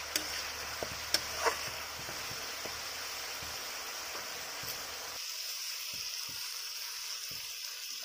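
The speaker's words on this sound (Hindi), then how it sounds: "अब इसको हम 4 से 5 मिनट ऐसे फ्राई कर लेंगे।" Potatoes, cauliflower and peas with red chilli powder and salt fry in a pan, a steady soft sizzle with a few faint stirring clicks, which suddenly thins to a quieter hiss partway through.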